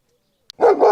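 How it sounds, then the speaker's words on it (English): A big guard dog on a rural farm in central Portugal lets out one loud, close bark after a moment of near silence, preceded by a tiny click. "These are some big doggies."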